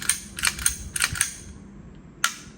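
Several sharp plastic clacks of an SRC Glock airsoft pistol slide being racked, in quick uneven bursts with a final snap after a short pause, close and fairly loud.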